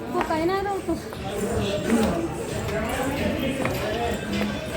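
Hooves of a horse clip-clop along the climbing path to a hilltop Mata Rani temple, steady and nearby beneath continuous talking voices and the chatter of children.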